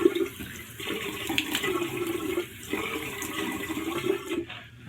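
Cool water running steadily from a bathroom tap for rinsing after a shave, a continuous splashing rush with a few brief gaps as hands move through the stream.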